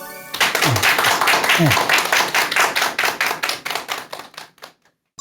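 A lecture audience claps at the introduction of a talk: dense applause starts at once, then thins into scattered claps and fades out, with a brief voice near the start.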